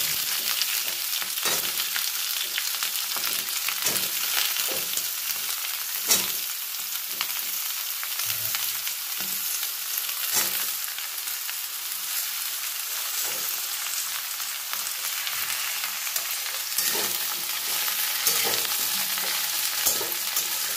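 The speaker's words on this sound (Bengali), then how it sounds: "কিছুক্ষণ পরে আবারও ঢাকনাটা খুলে সবজিগুলো নাড়াচাড়া করে" Vegetables with pumpkin and cabbage frying in a pan give a loud, steady sizzle, broken by repeated scraping and clattering strokes as they are stirred, with no voices.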